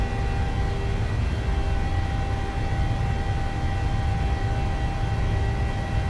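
Boeing 737-600 engines at takeoff thrust in a flight simulator game: a steady, loud, unbroken jet roar with a constant whine layered over it, holding the same level throughout.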